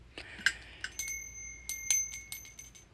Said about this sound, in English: It's a cute little bell.